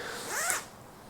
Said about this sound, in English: there we have another zipper right here